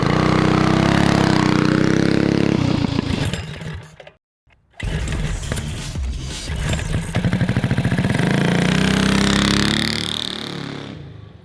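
A custom-built full-suspension mini dirt bike engine runs loud and close, revving and idling with a rough buzzing drone, cutting out briefly before firing back up and pulsing rhythmically.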